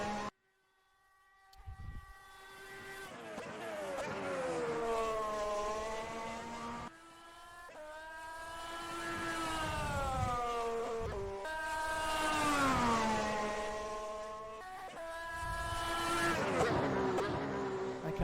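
An F1 race car on a flying lap around Catalunya in an F1 video game, its high-revving engine screaming and rising through repeated upshifts, with pitch drops between gears, loud and steady throughout.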